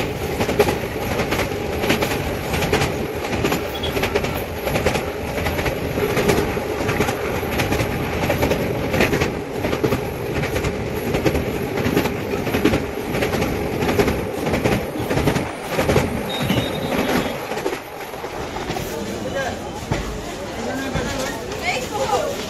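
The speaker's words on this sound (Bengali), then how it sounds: "এই দক্ষিণেশ্বরে কিন্তু 1 মিনিট এই ট্রেনটা দাঁড়াবে" A passenger train runs along the rails on the way toward Bardhaman junction, with a steady loud rumble and rhythmic clickety-clack of wheels throughout, and a brief dip near the end before the noise picks up again.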